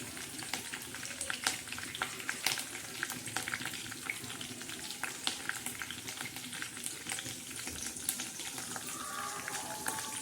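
Curry leaves fry in hot oil with garlic and cumin, making a busy, crackling sizzle with sharp pops and spits throughout, moderately loud and steady.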